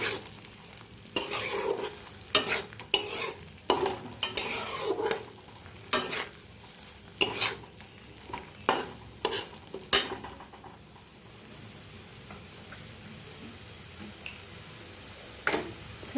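Potatoes being stir-fried with masala, a spoon scraping the pan in a run of sharp, rhythmic strokes over a low sizzle, then fading to quieter frying.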